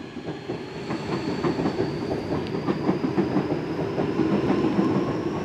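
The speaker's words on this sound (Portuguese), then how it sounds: "Então esse trem agora tá vindo de Mauá" A São Paulo commuter train runs steadily, arriving at Tamanduateí station, with rhythmic clickety-clack of wheels over rail joints under a constant rumble and faint hiss, heard from inside.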